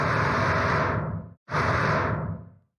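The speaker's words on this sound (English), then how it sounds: "This jetpack event uses a parameter to break out of a looped thruster sound." A looped jetpack thruster from a Unity shooter video game roars as a steady airy rush, cuts out briefly, then surges back and tapers off.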